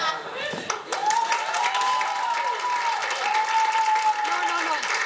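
An audience applauds steadily, a dense wash of clapping mixed with cheers at a comedy show, while someone talks over it in Spanish.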